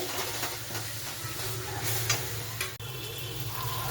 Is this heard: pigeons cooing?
no